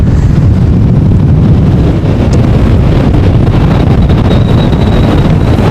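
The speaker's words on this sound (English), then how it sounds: "you can tell we're standing directly in the wind" Strong storm wind roars across the microphone at Amsterdam Schiphol airport, a loud, continuous buffeting rumble with gusts and no break.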